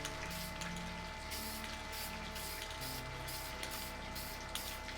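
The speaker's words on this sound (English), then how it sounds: "spray paint." A spray paint can hisses in soft, repeated bursts over a steady faint background while a 3D skeleton artwork is coated, fairly quiet and with no talk.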